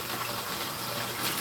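Hot tap water pours steadily over hands while dishes are washed with soap, a close, continuous broadband gush with no pauses and no voices.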